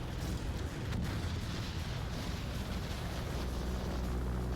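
Calliope rocket artillery pounding base turrets in the VR strategy game Final Assault, a dense continuous barrage of booming, rumbling blasts that stays loud and steady throughout.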